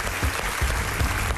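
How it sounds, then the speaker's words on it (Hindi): Studio audience clapping to welcome quiz show contestants on Kaun Banega Crorepati, a steady dense burst of applause with no voices over it. "तालियों के साथ इनका स्वागत कीजिए।"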